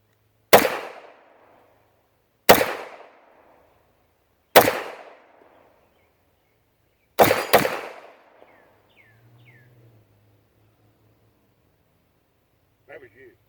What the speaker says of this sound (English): I ain't never shot this gun before.